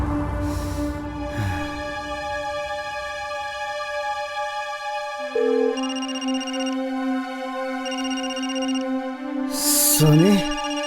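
A phone rings with an electronic ringtone, a sustained melodic tone pattern that shifts pitch partway through and plays for about ten seconds, with a brief rustling burst near the end.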